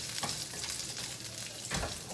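Chinese sausage, chorizo de bilbao, frying in a pan: a steady close sizzle throughout, with two brief louder stirring scrapes.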